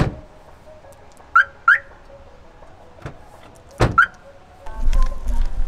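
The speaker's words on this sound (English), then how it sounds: "You have to close the doors and actually use your key to lock it and then turn on the alarm." A car is locked and its alarm set: several short electronic chirps sound, with a solid door thunk between them, and low rumbling noise follows at the end.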